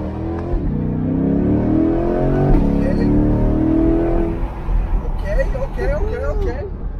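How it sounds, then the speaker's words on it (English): A new Chevrolet Corvette C8 Stingray engine revs up with a rising, strained whine over several seconds, while people talk over it; some higher chirping noises follow toward the end. "And you'll hear it like as we rev up, it'll sound just like, you know, some NASCAR stuff."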